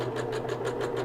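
A sewing machine stitches a cloth napkin in a quick, even run of needle strokes, close and steady with a low motor hum beneath, with no voices.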